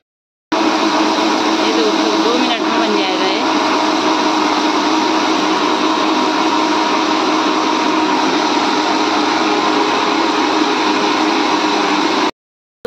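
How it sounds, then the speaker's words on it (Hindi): A loud kitchen mixer grinder churning butter with water runs continuously for about twelve seconds, a steady whirring roar that starts and stops abruptly. "अब मैं इसको मिक्सी में बना लेती हूँ।"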